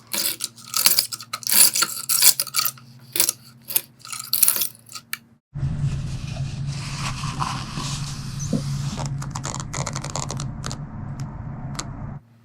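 A scraper blade drags across window glass in a series of short, sharp scratching strokes, then gives way to a steadier, continuous rough scraping, close and fairly loud.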